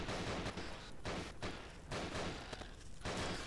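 Gunfire in the horror shooter game Nightmare House 2 comes as a dense, noisy run of shots over several seconds, with short gaps between bursts.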